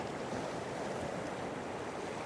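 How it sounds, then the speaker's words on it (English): Steady broadband wash of ocean waves surging up a shore on a sunny coast, a continuous close rush of surf with wind across the microphone. "I want a wave coming in like that"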